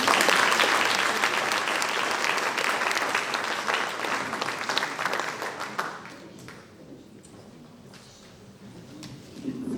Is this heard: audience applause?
yes